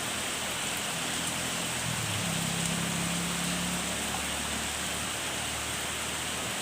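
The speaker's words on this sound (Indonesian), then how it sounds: "ini hujannya nggak berhenti-henti nih" Heavy rain pours steadily through the night, a dense, even hiss of drops on surfaces that fills the whole stretch, with a faint low hum briefly rising beneath it and no talk.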